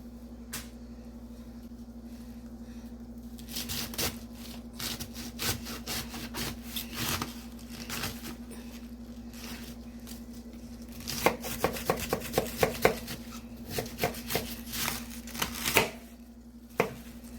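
Cabbage, its core removed, is chopped on a wooden board with rapid knife strokes, sparse at first, then dense bursts of rhythmic chopping near the close, over a steady low background hum.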